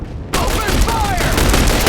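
Gunfire in the video game The Bureau: XCOM Declassified, heard as a loud, dense burst of rapid automatic shots that breaks in suddenly after a short pause and keeps rattling to the end, with faint battle noise behind it.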